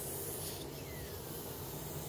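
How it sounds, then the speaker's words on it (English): Steam hisses from an Elite Gourmet Belgian waffle maker, a steady soft spray with a faint thin whistle rising briefly through it, close by and with no voices. "And it's making a little whistle."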